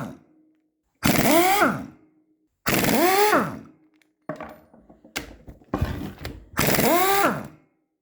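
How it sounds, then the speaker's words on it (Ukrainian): A power tool unscrewing bolts on a Virax rotary tiller, with repeated loud whirring bursts that rise and fall in pitch, separated by short pauses and lighter clanks. "Відкрутили по кругу ці болти, гвинти."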